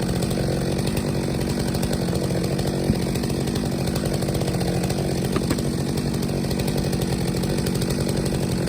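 A chainsaw bucks a felled poplar tree into lengths, running steadily at high revs with a continuous buzzing drone, fairly close and with no voices.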